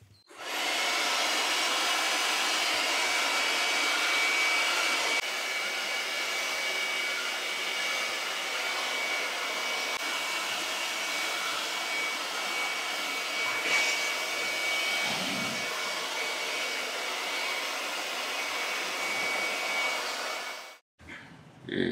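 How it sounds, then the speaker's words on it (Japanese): An air blower roars steadily for about twenty seconds, forcing rinse water out of a washed Mitsubishi FZ series air conditioner's heat exchanger with a loud, even, breathy hiss before cutting off abruptly. "熱交換器の水をしっかり抜いてあげたいのでブロワーを使って水を抜いていこうと思います"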